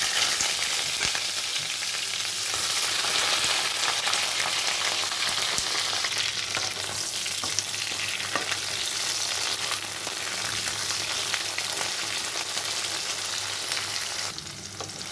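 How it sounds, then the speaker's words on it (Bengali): Nigella seeds, green chilli and vegetables crackle in hot oil in a pan for a fish curry with potato and eggplant, giving a loud, dense, continuous sizzle with faint stirring throughout. "তেলটা গরম হয়ে গেছে এখানে দিয়ে দিচ্ছি কালো জিরা দিয়ে দিচ্ছি কাঁচা লঙ্কা এখানে দিয়ে দিচ্ছি সবজি"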